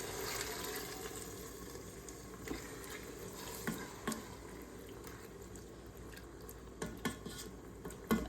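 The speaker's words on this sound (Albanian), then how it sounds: "Tash i hedhim 200 ml ujë." Water is poured into a pot of chicken cooking with saffron and dried plums, a faint, quiet trickle with light clinks of cookware nearby.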